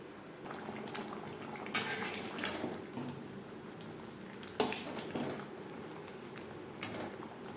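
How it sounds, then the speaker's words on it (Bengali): Masoor dal cooked with papaya bubbles in a pot on the stove, a soft continuous simmering burble with a couple of sharper clinks, close and quiet with no talking. "ডাল পেঁপে বেশ ভালো করে ফুটতে শুরু করে দিয়েছে"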